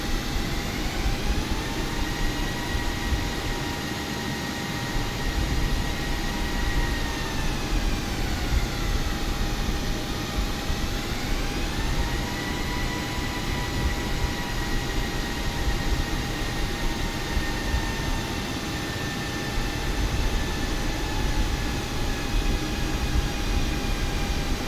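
Steady roar of a Qatar Airways jet airliner's engines during its takeoff run, heard from inside the cabin as a continuous broad rumble with a rising whine, constant and moderately loud throughout, with no talking.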